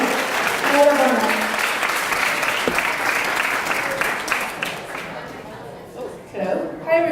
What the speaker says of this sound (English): please give a loud cheer to Tabby, our lovely bridesmaid, maid of honor